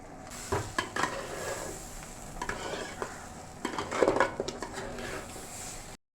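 Mutton being stirred in a cooking pot with ghee, with scraping spoon strokes and clinks against the metal pot over a faint steady sizzle, close and fairly quiet, irregular bursts of stirring.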